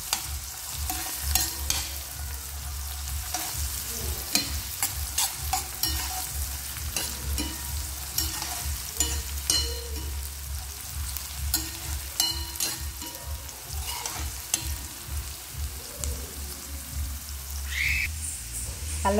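Onions, curry leaves and tempering spices frying in a pan, a continuous close crackling sizzle with a fast, regular rhythm of spatula stirring and scraping throughout.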